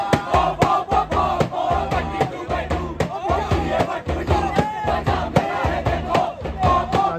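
A large crowd of new freshers on an IIT campus chants and shouts together in loud, rhythmic bursts, close and dense throughout with no single voice standing out.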